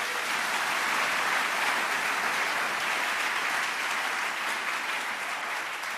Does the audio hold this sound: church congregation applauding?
yes